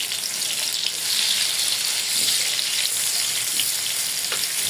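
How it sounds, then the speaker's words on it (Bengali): Pieces of sweet pumpkin fry in hot oil with a loud, continuous crackling sizzle, close up and without speech, its texture shifting slightly as the pieces settle. "এইভাবে আমি সবগুলা মিষ্টি কুমড়ো ভাজে নেব"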